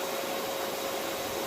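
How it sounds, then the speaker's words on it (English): A robot vacuum cleaner runs with a steady, even whooshing hum and a faint constant tonal whine, close by and with no voices. "that's my robot cleaner again, vacuum cleaner"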